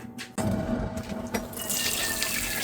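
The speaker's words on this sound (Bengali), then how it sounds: "রাইস কুকারের পটটা ভালো করে ধুয়ে নিলাম, তারপরে এখন এই যে চাল ধুয়ে নিচ্ছি" Tap water runs steadily into a rice cooker pot while rice is washed inside it, a continuous close splashing and gushing stream with shifting texture as the water fills and churns.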